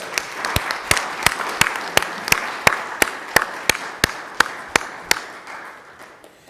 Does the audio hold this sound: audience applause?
yes